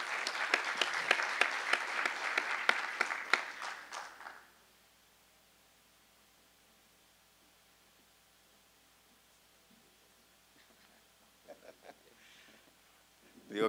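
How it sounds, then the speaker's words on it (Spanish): Audience applause after a doctor's talk at a Spanish-language event, dense clapping for about four seconds that stops abruptly, followed by near silence and a few faint stray sounds. "un aplauso para todos ustedes."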